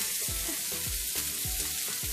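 Meat-stuffed bitter gourds sizzle and crackle as they fry in a pan, a close, continuous hiss with repeated soft thumps as the pieces are moved or turned, with no talking.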